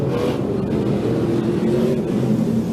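ARCA Menards Series race cars in the closing laps of the General Tire 150, running close together on the backstretch: a steady, continuous engine roar with droning tones, fairly loud and sustained throughout with no voices.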